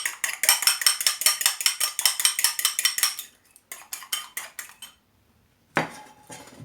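A fork beats eggs in a bowl for a spicy omelette, producing a rapid, even run of clinking strokes up close, pausing briefly, then a few more beats and a final scrape.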